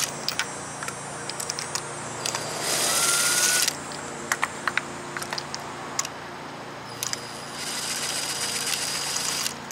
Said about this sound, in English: Now, this is an impact driver.